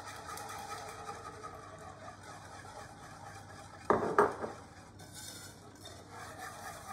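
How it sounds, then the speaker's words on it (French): A spoon stirs pastéis de nata custard with cornstarch in a pot, a soft steady scraping under a faint background hiss, with a brief louder clank of the utensil against the pot midway. "Je mélange le tout"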